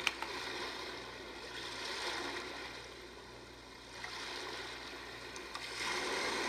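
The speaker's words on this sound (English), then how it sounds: "This is the ocean." Ocean setting on a white noise sound machine: a continuous whooshing wash that slowly swells and recedes like waves, with no talking.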